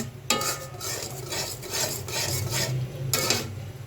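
A spoon scraping and stirring fried white and red flattened rice together in a hot pan, in repeated rhythmic gritty strokes, close and fairly quiet, with one sharper scrape near the end.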